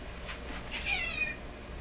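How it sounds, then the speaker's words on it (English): A pet cat meows a few times in a room where an old tube radio is being checked, the calls fairly faint and drawn out over steady low background hum. "Peanut, my cat"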